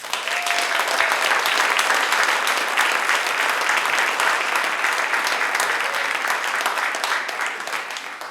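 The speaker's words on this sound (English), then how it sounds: "Ladies and gentlemen, please help me give a round of applause to Norm Clarke." A studio audience applauds to welcome columnist Norm Clarke on a talk show: sustained, even clapping from many hands that carries on for several seconds and tapers slightly near the end.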